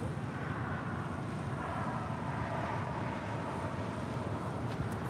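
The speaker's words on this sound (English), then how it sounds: "the Korean Air Flight 11 coming in from Seoul, the 747-8 Intercontinental" A Korean Air Boeing 747-8 Intercontinental on arrival into LAX, a steady broadband jet roar held at an even level throughout, fairly distant with no voices.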